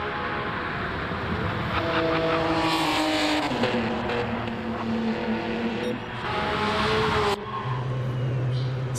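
Loud race car engine from a racing video game, sustained and continuous with pitch sweeps as it revs and shifts, filling the whole stretch without talk.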